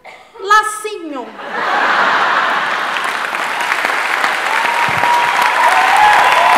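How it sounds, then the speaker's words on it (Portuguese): Comedy show audience bursts into applause for a performer after a brief shouted voice, sustained crowd clapping with scattered laughter building and holding to the end. "Mais palmas para Cris Paiva!"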